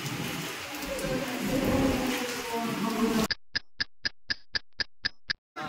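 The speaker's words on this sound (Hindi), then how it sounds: "वाह क्या बारिश हो रहा है, क्या बारिश हो रहा है, झमाझम जबरदस्त" Heavy rain falls in a steady, dense roar for about three seconds. It then gives way to a series of sharp, regular electronic ticks.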